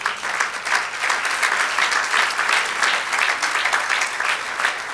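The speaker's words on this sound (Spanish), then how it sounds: "Dale un aplauso al Señor" A church congregation gives a sustained round of applause during a sermon, a steady dense wash of many hands clapping with no pause, evenly loud throughout.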